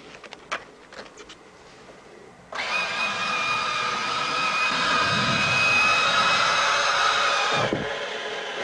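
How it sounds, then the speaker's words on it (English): An F-16C fighter jet's engine starts up on its jet fuel starter with no external support, a sudden loud onset that settles into a steady, close whining roar with a rising tone, continuing for about five seconds before cutting back. "the F-16C is easy to start"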